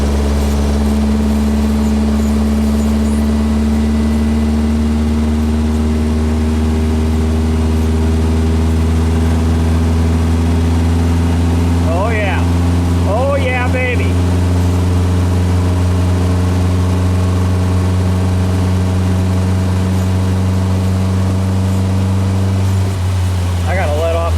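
A VW 1800 car engine pulls steadily uphill from about 35 mph at 2,000 rpm, a loud, sustained low drone heard from inside the car, with someone talking over it.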